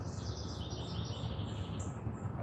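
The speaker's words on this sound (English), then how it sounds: "I hear birds." Outdoor birds chirp and tweet in short bright bursts spread across the moment, fairly faint above a constant low hum of traffic.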